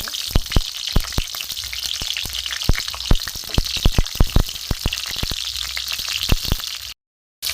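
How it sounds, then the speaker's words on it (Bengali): Garlic cloves and green chillies frying in mustard oil in a pan, with a steady close sizzle broken by frequent sharp crackling pops, continuous until a brief cut near the end. "এখানে আমি কয়েক কোয়া বড় রসুন একটু ভেজে নেব"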